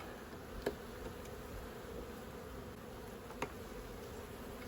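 Honeybees buzz steadily around an opened hive in spring, a constant low insect drone with a couple of brief sharp clicks over it.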